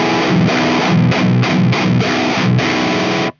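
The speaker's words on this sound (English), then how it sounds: "This brings you closer to some typical metal tones from the 80s" An amp pushed into thick, saturated distortion with an 80s metal-style EQ, playing loud chugging guitar chords in a choppy rhythm before cutting off sharply.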